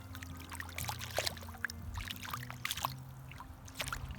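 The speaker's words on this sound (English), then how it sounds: "I'm gonna wash my feet off" Water is poured to wash bare feet off on a river trail, an irregular splashing trickle close by, with scattered drips and small spatters over a low background hum.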